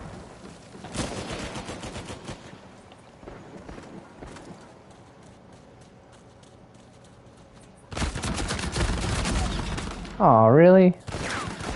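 Video game gunfire in Uncharted: bursts of broadband shots and clatter, loud and dense in stretches, with a quieter gap in the middle and a short voice remark over the action.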